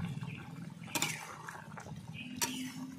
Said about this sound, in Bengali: দেখো মাছের ঝোল ফুটছে।